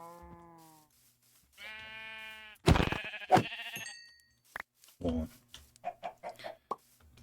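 A video game sheep bleats in two drawn-out, wavering cries, followed by short clucking chicken calls and scattered farm-animal noises, a voice briefly heard among them.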